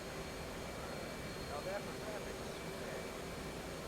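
Jet aircraft engine roaring steadily during takeoff in the DCS flight simulator, a constant, even wash of noise at an unchanging level throughout, with a faint voice in the background.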